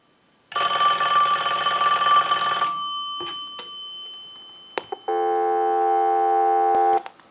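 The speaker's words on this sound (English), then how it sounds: "I'll let it go one more time and we'll give you some dial tone." A repaired Western Electric Princess phone first gives a loud ring burst, then a few sharp handset clicks, followed by a steady, humming dial tone that holds for about two seconds until a final click.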